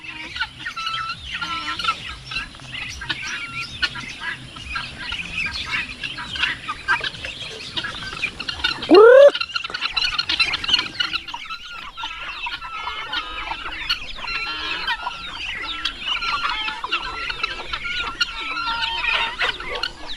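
Chickens and chicks cluck steadily throughout, a busy flock with overlapping calls and scattered chirps, plus one brief rising squawk midway.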